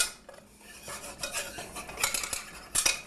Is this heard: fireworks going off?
no